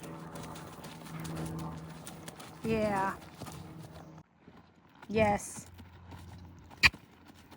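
A young horse's hooves clip-clop at a walk during spin training, soft steady footfalls under a rider's voice, with brief louder creaks and a sharp knock partway through.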